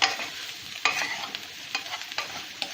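Spiced potatoes tossed with sambar powder and chilli powder fry in a pan for a South Indian potato roast; repeated sharp stirring scrapes ride over a steady close sizzle.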